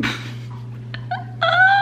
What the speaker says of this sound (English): If you hear pitter patter, it's my dogs.